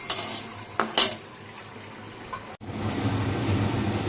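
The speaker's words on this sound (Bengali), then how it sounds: "ডালটা জাস্ট একটুখানি নেড়ে নেবো, বেশি কড়া ভাজবো না" Lentils are stirred and lightly fried in a pan: a few sharp scrapes and clinks of a utensil against the pan, then a steady close sizzle of frying that carries on to the end, no voices.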